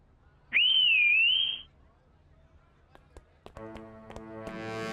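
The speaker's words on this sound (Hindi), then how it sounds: "सीटी बजा देते हैं।" A single shrill whistle blast rings out for about a second, followed by quiet and then light tapping and a rising tonal sound.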